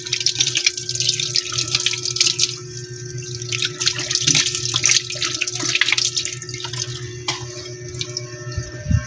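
Tap water runs into a kitchen sink during washing up, a steady close splashing stream with drips and occasional light knocks of dishes, with no talk.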